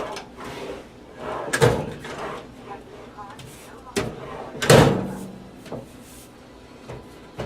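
Drawers of a new padded tool box sliding open and shut, several thuds and slides amid background noise and occasional talk nearby.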